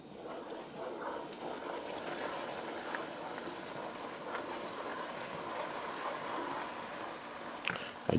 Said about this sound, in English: we want to keep stirring and slowly going with our heavy cream